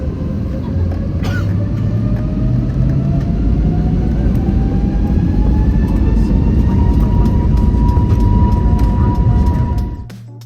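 Steady, loud roar of airliner engines on a flight to Phoenix, Arizona, a continuous broadband drone with a slowly rising whine that holds for about ten seconds before dropping away at the end.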